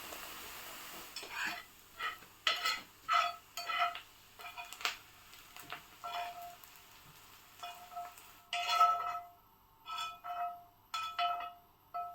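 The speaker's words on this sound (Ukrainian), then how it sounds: "Тож забираємо її і висипаємо у нашу зелень" Light scraping and clinking of a utensil against a pan or bowl as fried onion is tipped into chopped greens, short irregular bursts, close by, with no talking.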